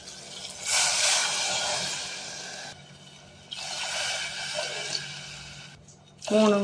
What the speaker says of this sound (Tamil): நான் 3 டம்ளர் தண்ணி ஊற்றிக்கிறேங்க ஃப்ரெண்ட்ஸ்.